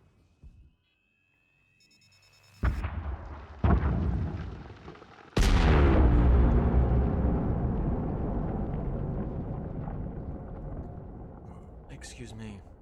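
Explosive detonation in a space mining video game: two sharp bursts, then a huge, close blast with a long rumbling roar that fades slowly over several seconds.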